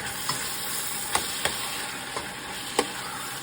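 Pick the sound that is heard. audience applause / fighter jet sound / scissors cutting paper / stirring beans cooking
stirring beans cooking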